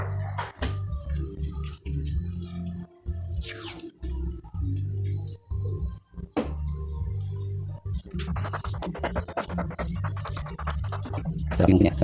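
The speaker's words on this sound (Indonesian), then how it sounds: "Oke, kita lakban dulu." Electrical tape is pulled and wrapped around wiring while a turn signal is fitted on an Uwinfly electric motorbike, giving repeated short rasping, crackling bursts over a steady low hum, close and fairly quiet.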